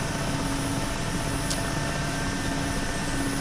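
A Mil Mi-8 helicopter sits just after landing, its engines and rotor producing a steady, loud, continuous drone with a constant whine throughout, and no one speaks.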